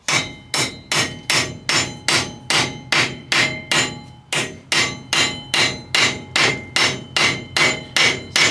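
A garden fork handle is hammered down on an anvil to mushroom its head, a steady run of about seventeen loud, evenly spaced ringing blows at close range with no talk.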